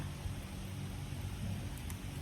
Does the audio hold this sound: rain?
yes